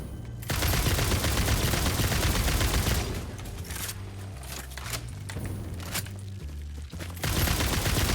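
Rapid gunfire from a weapon in the factory-building game Satisfactory rattles loud and close in dense bursts, easing into quieter, choppier shots midway before a heavy burst returns at the end.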